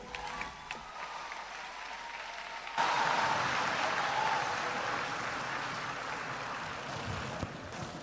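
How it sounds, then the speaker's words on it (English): Audience applause at a junior calypso monarch finals show, a sustained wash of clapping that swells suddenly and holds steady at moderate distance. "Let's give him another round of applause."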